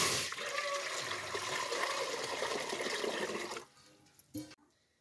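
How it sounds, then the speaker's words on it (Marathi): Water is poured into a pot for boiling peanuts on a lit wood-fired stove: a steady, close rushing pour lasts about three and a half seconds, then stops, followed by a couple of quiet knocks. "आता आपण पाणी टाकून घेऊ आता शिजायला."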